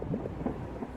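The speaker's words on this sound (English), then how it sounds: "No, not the rain." Rain falls steadily with low rumbling thunder in the video game Until Then, a continuous close wash of patter and deep grumble with no voices.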